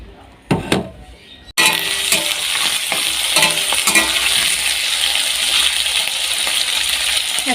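Vegetables frying in a hot pan sizzle loudly and continuously. The fry starts abruptly after a couple of brief clinks and knocks, and no one speaks.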